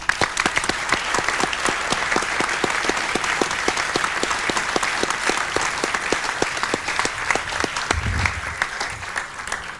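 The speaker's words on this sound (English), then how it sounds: "we'll close the evening with a very heartfelt round of applause" An evening audience at an economics award event gives a sustained, dense round of applause, steady clapping throughout that fades slightly toward the end.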